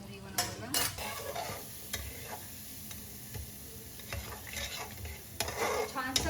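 Spices and turmeric sizzle in hot oil in a pan while a spoon stirs and scrapes against the metal, a close crackling fry with occasional clinks.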